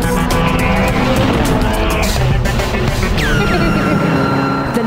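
A Ferrari road car with a twin-clutch seven-speed gearbox accelerates hard, its engine roaring loud and close with high whining tones and a squeal of tires partway through.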